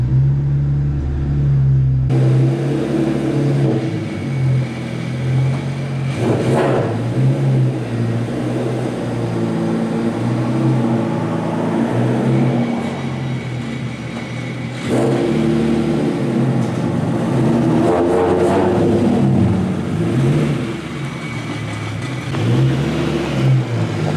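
A single-turbo BMW N54 335i accelerates while driving, its engine rising and falling in pitch through two long pulls with a loud, steady drone and no talking.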